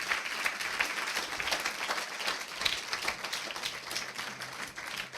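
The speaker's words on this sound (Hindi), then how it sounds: "प्रभु के लिए ताली नहीं बजाओगे?" A church congregation at a Palm Sunday service claps for the Lord, a dense, sustained round of applause from many hands, fairly near and steady throughout.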